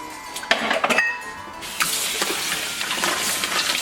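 Pumpkin seeds are rinsed under running water in a kitchen, with a few sharp clinks of a container at the start, then a steady soft hiss of flowing water over the seeds.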